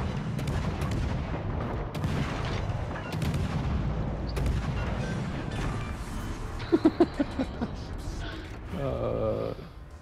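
Naval gunfire from World of Warships Legends plays as dense booming shots over a steady rumbling battle bed, then a run of sharp repeated bangs near the end, with a player speaking over the action.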